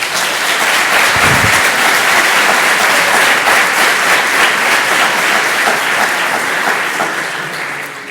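Loud, dense applause from a cybersecurity conference audience welcoming a speaker before a threat-hunting talk, a continuous wash of many hands clapping that eases slightly at the end.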